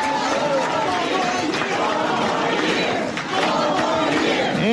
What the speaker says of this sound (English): the crowd begins to chant 4 more years over the president